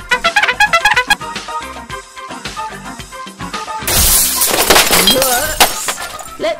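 A water rocket smashing into a shed, a loud crash of breaking and shattering debris that bursts in midway, following a run of sharp rattling impacts.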